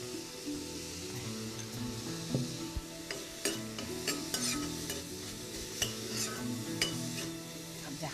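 Onions fry and sizzle in a pan for a dish of zaq curry with mutton, with a steady hiss and frequent clinks and scrapes as a utensil stirs against the metal.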